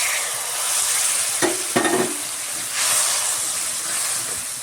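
Water from ground spice paste is poured into a frying pan for a brinjal and roopchand fish curry, bringing a loud hissing sizzle with a couple of short clattering bursts midway before the hiss swells again.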